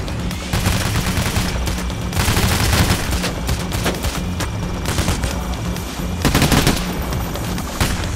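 Gunfire from the Payday The Heist video game during a bank robbery mission: rapid, loud bursts of automatic and sniper shots crackle continuously, with heavier volleys near the start and end.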